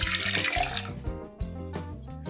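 Water poured out of a coffee server after rinsing a paper filter, a steady splashing gush that is loud at first and then thins into lighter trickling and gurgling, heard close and with no talking.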